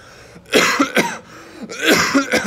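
A voice imitates coughing with two harsh, throaty bursts, each a few rough hacks, loud and close.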